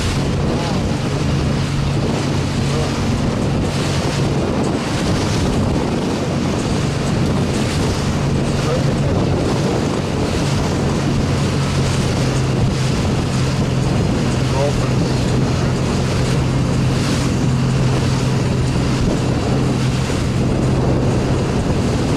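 Constant engine drone of a boat under way near Sanibel and Fort Myers Beach, with wind buffeting the microphone and water rushing along the hull.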